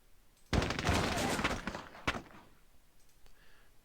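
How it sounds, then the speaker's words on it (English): A volley of canister shrapnel fire in the Squad Battles: Tour of Duty war game erupts as a dense, loud crackling burst lasting about two seconds, then a single sharp report and a fading tail. "Fire some shrapnel in there"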